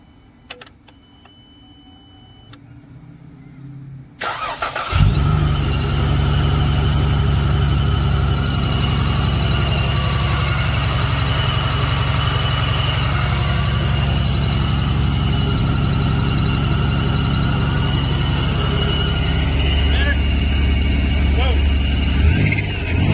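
Dodge Challenger V6 engine cranks and catches around five seconds in, then settles into a loud, steady idle with a few light revs, heard close up after quiet background noise at the start.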